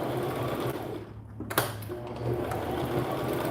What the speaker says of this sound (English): now I am going to take it to the sewing machine and sew all the way down, making sure to back stitch